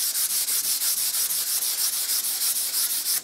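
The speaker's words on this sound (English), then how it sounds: "That second coat of bin primer is dry now, so I'm going to give it another sand down." Close, rhythmic hand sanding of a coat of BIN primer, with quick back-and-forth strokes repeating steadily for a few seconds with no voices.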